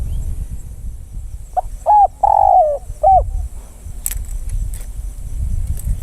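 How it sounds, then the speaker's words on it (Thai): A spotted dove coos four times in a short, soft rhythmic phrase, then falls silent against a low outdoor rumble. "นกป่าถึงขันอย่างเงี้ยนะครับ"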